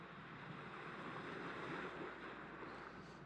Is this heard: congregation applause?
no